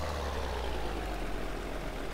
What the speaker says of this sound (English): we're following all our tractors here